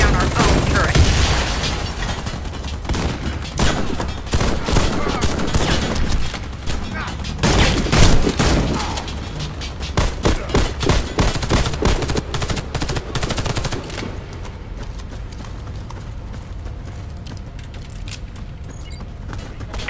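Sustained automatic gunfire from a first-person shooter video game as a defensive turret is shot down, loud dense bursts with booming impacts for most of the stretch before easing into a quieter mechanical rumble, with a voice talking over parts.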